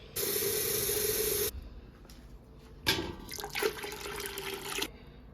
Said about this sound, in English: Probably should put a little bit more water in here.